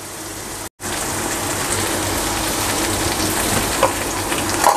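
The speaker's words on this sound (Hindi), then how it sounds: "इसको 4 से 5 मिनट तक मैं अच्छी तरह फ्राई करूंगा।" Red and green capsicum with fresh basil fry in a pan for chicken Alfredo pasta. The sizzle is dense and continuous, like rain on a surface, loud and close, with one brief dropout near the start and no talking.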